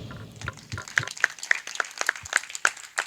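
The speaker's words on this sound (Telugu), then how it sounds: "అర్థమైన వాళ్ళు చప్పట్లు కొట్టండి" Audience clapping at a religious sermon, a modest scattering of hands with a few sharp, distinct claps standing out in an irregular rhythm, fairly quiet and brief.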